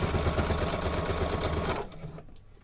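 A sewing machine stitches a fabric face mask, a fast rhythmic close whir that runs steadily, then stops abruptly near the end and leaves quiet room sound.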